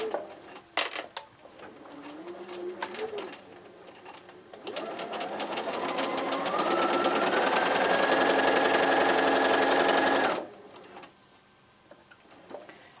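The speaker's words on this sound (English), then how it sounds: "So I'm just going to place this here on my sewing machine." A sewing machine stitches a quilt seam on raw-edge squares, with short bursts of stitching early on and then a loud, steady whirring run of about six seconds that stops abruptly.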